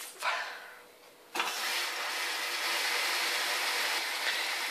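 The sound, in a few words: Hotpoint WMYL 8352 washing machine starting a synthetics 40-degree wash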